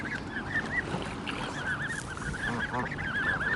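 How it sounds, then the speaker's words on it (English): Geese honk repeatedly and closely at the Bird World bird park on the Isle of Wight, in a busy overlapping chorus with other fowl calls over a steady outdoor background. "I'm surrounded by birds."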